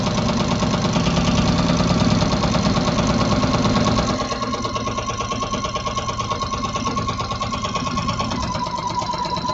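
A sewing machine fitted with a walking foot runs continuously while stitching a quilt, a fast, even mechanical whir that softens slightly partway through as the stitching speed eases.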